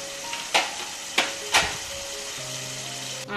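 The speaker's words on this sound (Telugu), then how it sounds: "ఇప్పుడు ఆయిల్లో వేసి వేగే వరకు ఆగుదామండి." Potatoes sizzling steadily in hot oil for a Telugu aloo fry, a constant crackling hiss broken by a few sharp splatter pops, close and fairly loud with no talking.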